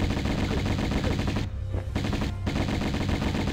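Rapid automatic gunfire in Tomb Raider Remastered, a dense, loud, continuous burst of shots that briefly drops out twice before resuming, with no talking.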